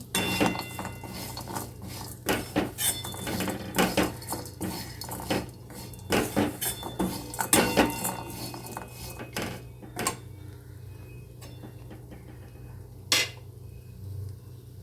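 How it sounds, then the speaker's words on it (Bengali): Oats being roasted in a pan and stirred with a metal spoon: irregular clinks and scrapes against the pan come in bursts, then thin out to occasional taps over a low background hum, with no voices. "তো আমি একটুখানি এটাকে ভালো করে একটুখানি রোস্ট করে নিচ্ছি এবার আমি ওটসটাও দিয়ে দিলাম"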